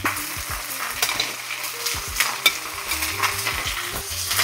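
Beef frying hard in a pan for beef pares, a loud continuous sizzle with a spoon scraping and stirring through it in uneven strokes, no voices.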